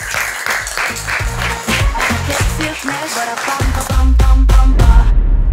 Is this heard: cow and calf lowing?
no